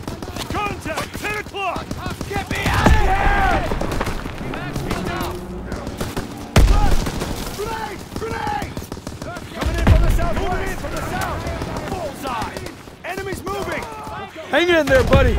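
Gunfire in the World War II shooter Call of Duty WW2 on Xbox One: loud, dense bursts of rifle and machine-gun fire with repeated heavy blasts, mixed under shouted voices throughout.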